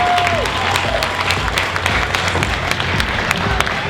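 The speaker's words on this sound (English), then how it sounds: "Another huge round of applause for all our cosplay winners and especially for our contestants." A crowd at a DreamHack Winter 2022 cosplay contest applauds the winners and contestants, a loud continuous burst of clapping with scattered sharp claps standing out.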